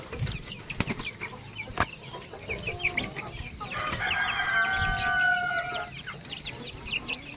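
White Leghorn chicks and chickens cluck and cheep close by, one bird calling out in a long crowing cry midway, with scattered clatter and wing flutters and no talk.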